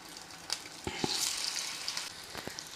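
Veg cutlets sizzle in hot oil, a steady crackling fry with a few sharp pops and spits scattered through, close and moderately loud with no talking.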